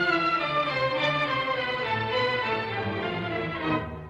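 A Brahms symphony orchestra plays a sustained melodic passage that turns from major to minor key, with smooth, rich harmonic tones held steadily at moderate loudness and no talking.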